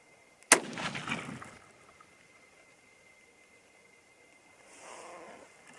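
A single sharp rifle shot from a .22-250 Rem or .243 Win varmint rifle cracks loudly outdoors, followed by a rumbling echo that decays over about a second, then near silence and faint wind.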